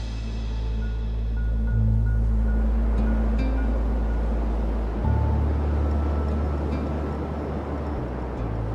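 Surf and wild wind along the King Island coastline, a steady broadband roar with low rumble and gusty buffeting, loud and continuous with no voices.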